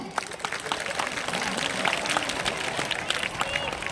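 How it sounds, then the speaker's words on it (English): An audience claps steadily through a 25th ordination anniversary celebration for a priest, a dense, continuous round of applause filling the hall with some crowd noise mixed in. "A big round of applause for them."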